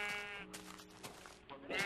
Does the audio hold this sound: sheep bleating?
yes